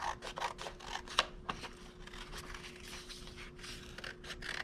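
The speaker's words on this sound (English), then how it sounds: "So go ahead and cut this out." Scissors snip through paper to cut out a child's handprint for a superhero note card, giving soft, close, irregular cutting and rustling sounds with a few sharper snips, quiet and without talk.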